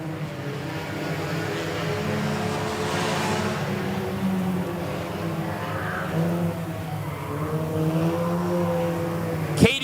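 Stock cars race on a clay speedway during a heat race, engines droning loud and steady with revving as cars are thrown hard into a corner, a sharp burst at the very end.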